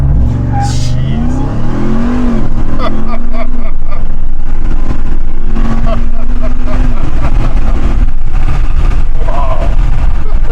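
A 2021 Ram TRX, a 702-horsepower pickup, accelerates hard with wheel spin, its loud engine roar climbing steadily through the gears while excited voices talk over it.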